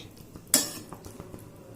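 Gravy stirred around a pot: a sharp metal spoon clink against the side, followed by a few faint scraping taps, close and quiet.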